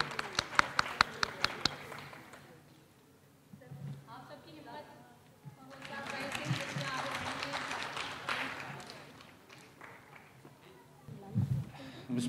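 Applause at an award ceremony, with a few sharp separate claps at the start, then a broader burst of clapping from the audience in the middle, mixed with some talk.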